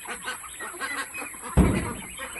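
Pet ducks kept indoors give repeated nasal honking calls close by, with one louder, harsher call partway through.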